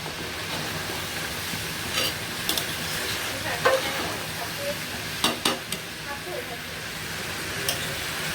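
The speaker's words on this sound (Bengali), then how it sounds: "তো এই তো ছোলার ডালটা দিয়ে দিচ্ছি, এতে ভালো করে কষিয়ে নিব।" Chana dal fries in hot oil in a pan, a steady close sizzle with intermittent scraping strokes of a spatula stirring it.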